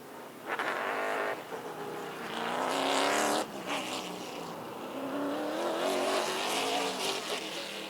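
Pack of Pro Stock race cars roaring past on an oval racetrack, loud engines swelling and fading as they pass, with faint tire noise and no talk.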